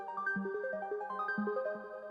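Synth arpeggiator running fast, evenly spaced rising and falling note runs over a repeating low note in a trap beat, panned hard to the right, clean and moderately loud with no voices.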